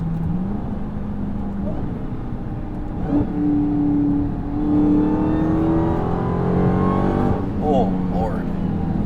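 A 2022 Dodge Charger SRT Hellcat Jailbreak with its eight-speed ZF automatic, driven in sport mode, revs up through quick shifts. The engine roars loud and close inside the cabin, its pitch sweeping upward through successive gears.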